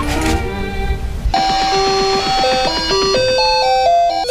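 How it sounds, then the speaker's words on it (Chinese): An alarm clock rings with a bright electronic melody of stepped chime-like notes that starts abruptly after a short stretch of background noise and plays on loudly to the end. "还好我有带闹钟"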